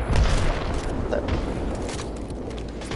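Gunshots in a video game, with booming shots and bursts rumbling through a constant roar of game noise and no clear pause.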